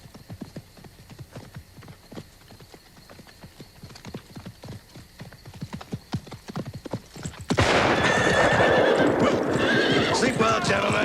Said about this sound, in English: Hector, get the horses.